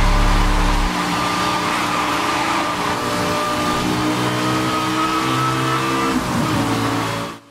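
A Lamborghini Gallardo LP570-4 Superleggera in the racing game Need for Speed Hot Pursuit (2010) holds a loud, steady high-revving engine drone that swells and shifts pitch, then cuts off abruptly at the end.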